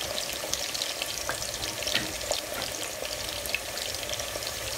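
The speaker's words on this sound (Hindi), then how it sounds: "आलू हमारे फ्राई हो रहे हैं दूसरी साइड पे" Potato slices fry in a pan with cumin seeds, giving a continuous close sizzle full of fine crackles and small pops, with no talking.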